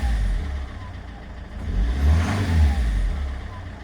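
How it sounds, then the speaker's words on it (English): A Chevrolet Corvette C5 with starting trouble idles roughly, then swells into an uneven rev before settling back, a close, lumpy low engine rumble that is loud throughout. "I'll just give it a rev, so it runs rough as anything"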